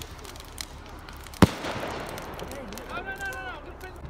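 Fireworks on bonfire night, a single sharp loud bang followed by a crackling fizzle, with people talking around it in the open air.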